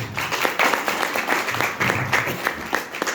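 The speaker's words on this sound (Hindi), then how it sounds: "अगर मेरी बात को आपको समझ आती है तो दोस्तों मुझे तालियों से बताना पड़ेगा आपको" Clapping from a seminar audience comes as steady, fairly loud and close applause with distinct individual claps, carrying on through the whole stretch with little talk.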